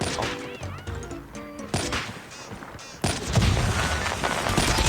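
Bursts of rapid gunfire and crashes pile up in a dense, noisy Call of Duty Mobile soundscape, with sharp hits and electronic tones throughout.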